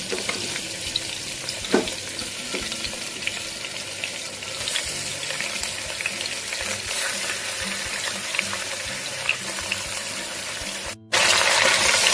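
Chicken pieces go into a hot pot for a healthy chicken soup, setting off a steady, bright sizzle that runs continuously with scattered stirring clinks, then briefly cuts out before resuming.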